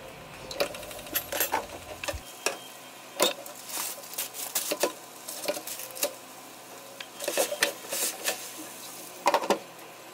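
Fish frying in a pan on a home stove gives a soft sizzle beneath irregular clinks and knocks of cookware, with scattered sharp taps spread across the stretch.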